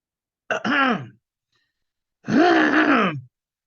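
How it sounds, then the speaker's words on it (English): Two throat-clearing rasps separated by a pause, the second longer and more drawn out, close and alone with no talking. "I'm just clearing my throat."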